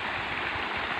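A creek flowing toward the sea, a steady broadband rush of running water, close and continuous with no other sounds over it.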